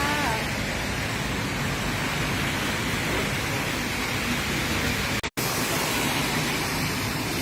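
Heavy afternoon rain pours down in a steady, loud, broadband hiss with no letup, broken only by a brief dropout near the end.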